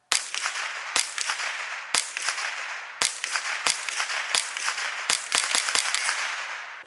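Federal 22 Long Rifle 40-grain rounds fired from a Ruger 10/22 in a quick string of sharp, close cracks, about a dozen shots at an irregular, rapid pace with brief ringing between them.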